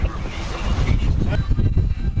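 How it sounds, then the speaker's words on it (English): Loud, steady wind roars and buffets across an open fishing boat off Miami, with low rumbling gusts and some muffled noise underneath. "it is absolutely honking out here. It is windy."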